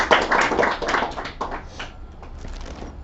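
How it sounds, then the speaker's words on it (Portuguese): Audience applause welcoming a former student to a school interview event, a burst of close clapping that thins out and fades over about three seconds. "Vamos receber com muito carinho e aplausos"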